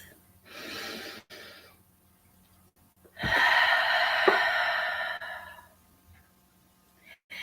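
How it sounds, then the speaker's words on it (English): Deep breathing during a morning guided prayer: a short inhale followed by a longer, fuller breath in and out, close and soft with quiet pauses between. "We breathe deep."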